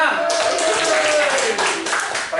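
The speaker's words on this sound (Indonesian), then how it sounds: "Tepuk tangan buat Rozin." Hands clapping in a school classroom as pupils applaud a classmate, a dense patter of claps running throughout alongside a teacher's voice.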